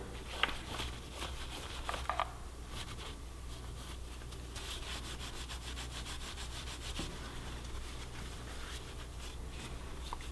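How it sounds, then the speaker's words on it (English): A rag dampened with brake cleaner is wiped over the engine case of a 2017 Yamaha R6, giving faint, steady rubbing and scrubbing strokes close by. "For that, I'm just going to use a little brake cleaner here on a rag."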